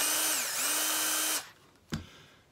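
A Festool drill with an attachment spins up loud and close, dips in pitch briefly, then keeps whining steadily before cutting off, followed by a single sharp knock in the quiet.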